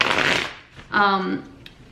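Tarot cards being shuffled by hand, a short riffling burst of card flutter under a quiet voice, with speech before it.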